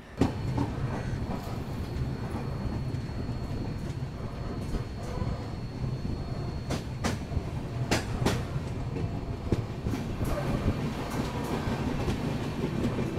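Steady rumble of the Indore–Howrah Shipra Express departing Sagar railway station, rhythmic clacking of wheels on track, heard from close by, with a few sharper knocks partway through.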